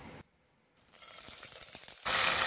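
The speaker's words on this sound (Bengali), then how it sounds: "ফ্রাই করে নিচ্ছি" Blended paste of four medium onions, four garlic cloves and a piece of ginger frying in a pan, giving a close, steady sizzle that cuts in and out with a loud burst at the end.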